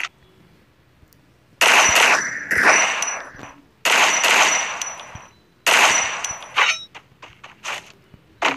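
SCAR rifle fire in a video game: three long bursts of rapid automatic gunshots, loud and close, separated by brief pauses, then a few shorter shots and metallic clanks.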